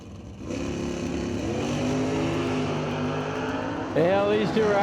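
Drag race cars, including a Corvette and a Chevelle, launching off the line at a drag strip, a loud sustained engine roar rising in pitch, with an announcer talking over it near the end.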